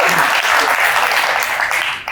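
The audience at a tech talk breaks into brief, dense clapping that fills the room. It is loud and even, then thins out at the very end.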